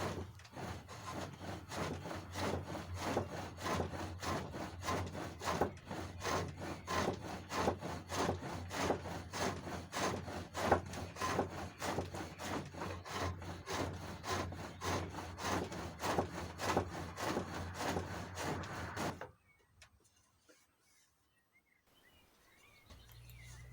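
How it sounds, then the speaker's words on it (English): A skew chisel cuts a taper on hawthorn wood spinning on a foot-powered pole lathe, giving a rapid rhythmic shaving rasp that pulses with each stroke for most of the time, then stops, leaving near silence with faint birdsong outdoors. "We use the skew chisel again to do the same job on the taper, where the big chisel just won't quite get into that taper."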